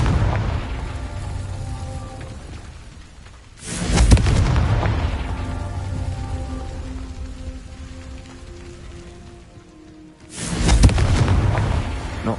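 Confringo fire spell explosions in the game Hogwarts Legacy: two loud, booming blasts a few seconds apart, each a sudden burst that fades into a long crackling, rain-like rumble over a steady ambient bed.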